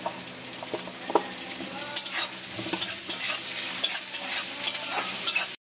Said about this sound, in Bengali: চর্বিটার পেঁয়াজটা ভালো করে ভাজা হয়ে গেছে, এটা আমি লাল লাল করে ভেজে নিয়েছি